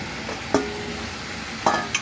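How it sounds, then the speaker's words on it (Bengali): A spoon scrapes and taps against a pan as kachki fish are stirred into frying spice paste with tomato, a couple of sharp clinks over a low, steady sizzle. "এখন আমি নেড়ে চেড়ে মশলাটা কষিয়ে মাছগুলি দিয়ে দিলাম, কেসকি মাছগুলি অ্যাড করে দিচ্ছি।"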